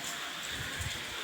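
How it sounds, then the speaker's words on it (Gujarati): Heavy rain falls outside a home, a dense steady wash of noise with soft low patter underneath, heard alone for a brief moment. "વરસાદ તો આજે વરસી ગયો કે કોઈ સીમા જ નથી"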